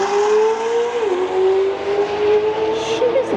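McLaren Senna accelerating hard from a standing start, engine note climbing then dipping at a gear change before rising again, loud and steady, with a faint voice briefly in the background.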